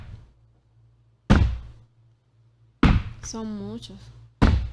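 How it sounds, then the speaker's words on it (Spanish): A hand knocks on a table three times, each knock sharp and close with long gaps between them, and someone speaks briefly between the second and third. "con esos golpecitos que yo le doy a la mesa"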